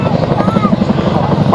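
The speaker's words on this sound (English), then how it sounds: "Royal Air Force Chinook display team" Royal Air Force Chinook twin-rotor helicopter flying a display at an airshow, a steady heavy rotor drone with rhythmic blade thumping, loud and continuous, with a voice faintly mixed in.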